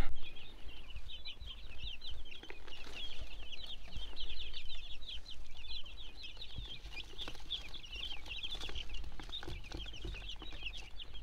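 A flock of meat chickens on pasture clucks and chirps continuously, close by and busy, over a low rumbling background.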